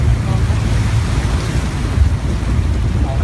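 Vehicle crossing a river in Vang Vieng, Laos, heard as a continuous dense wash of rushing water and rumbling wind noise, loud and close throughout.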